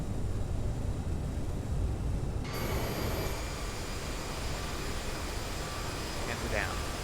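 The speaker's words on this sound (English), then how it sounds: "Reversers are on." An airliner's thrust reversers roar during landing at Vancouver BC International, a loud, sustained broadband rumble heard from inside the cabin that holds steady through the rollout.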